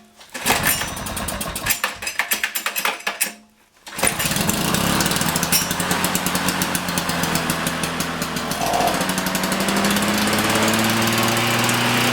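An abandoned lawn mower's small engine turns over with rapid chugging, stalls briefly, then catches and runs loud and rough, knocking steadily up close in a garage.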